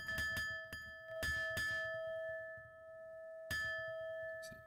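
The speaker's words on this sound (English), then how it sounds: "So if I take again this bell instrument," A sampled bell instrument plays in a software sampler: several sharp struck notes with long, steady ringing tones that hang on, then another strike after a pause, clean and close with no voices.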